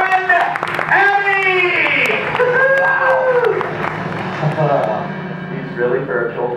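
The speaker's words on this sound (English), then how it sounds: "big round of applause for my good friend, Emmy" Studio audience at a horror make-up show clapping and cheering for a puppet named Emmy, loud sustained applause with whoops layered over music and voices.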